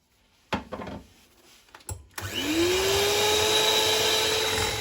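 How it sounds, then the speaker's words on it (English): An electric whisk starts up and runs steadily, loud and close, beating meringue with caster sugar after a few clunks and handling knocks. "So we've whisked in half of that."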